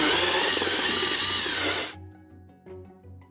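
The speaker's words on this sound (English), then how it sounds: "I'm gonna use my drill to drill a hole at the bottom of the cauldron" A power drill whines loudly and steadily for about two seconds while drilling a hole in the bottom of a metal cauldron, then cuts off, leaving faint low hum and a couple of small clicks.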